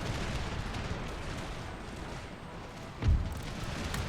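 Volley fire from massed troops firing at will in the strategy game Empire: Total War, a dense continuous battle rumble with a sharper burst of musketry near the end, no voices.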